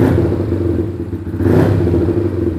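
A motorcycle engine fitted with a wide-band sensor runs steadily at idle right after starting, loud and close, with a constant low droning rumble and a slight swell partway through.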